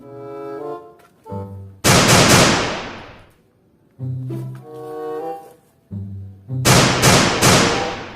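A toy shotgun fires in bursts: electronic tonal sound-effect notes followed by loud crackling blast noises, repeated in two cycles with short gaps between them.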